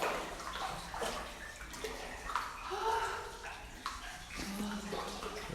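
Water runs and trickles inside a deep copper mine in the Cascade Mountains, a steady, hollow wash with echoing gurgles and faint voices in the background.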